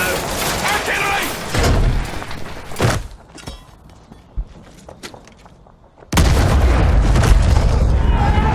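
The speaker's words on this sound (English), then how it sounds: "Artillery!" Artillery shells land in the World War I shooter Battlefield 1 on a muddy battlefield, with heavy booms and thuds and a sudden loud, sustained roar of blasts near the end, while soldiers' voices call out between impacts.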